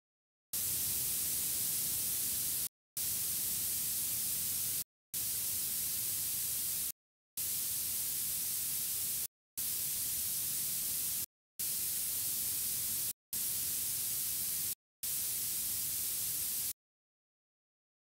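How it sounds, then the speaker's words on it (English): Eight bursts of a spray gun spraying primer on scale models, each lasting about two seconds with short silent gaps between, hissing, steady and broadband, with no voices. "we're spraying paint"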